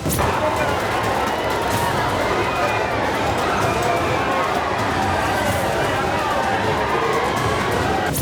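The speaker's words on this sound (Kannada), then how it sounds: "ಬಿಜೆಪಿ ಕಾಂಗ್ರೆಸ್ ಕಾರ್ಯಕರ್ತರು ಜಿದ್ದಿಗೆ ಬಿದ್ದವರಂತೆ ತಮ್ಮ ಪಕ್ಷದ ಅಭ್ಯರ್ಥಿಗಳ ಪರ ಜೈಕಾರ ಕೂಗಿದ್ರು" BJP and Congress party workers chanting slogans outside a temple on nomination filing day in Davanagere, a dense, continuous roar of a large crowd shouting and cheering throughout.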